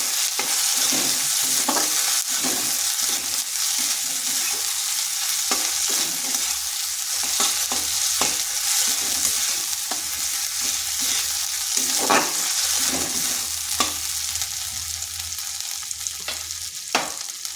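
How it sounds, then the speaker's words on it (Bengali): Ginger-garlic paste frying in a pan with a loud, continuous sizzle, punctuated by repeated scraping and tapping as a spatula stirs it, and no voices. "দিচ্ছি আদা রসুনের পেস্ট। এটাকেও একটু ভেজে নিচ্ছি যাতে তার কাঁচা গন্ধটা চলে যায়।"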